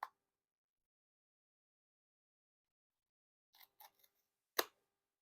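Card opener cutting the seal on a Bicycle Iridescent Rainbow Prototype playing card deck: a few brief, close clicks and small scrapes, ending in one sharp crack, after a long stretch of silence.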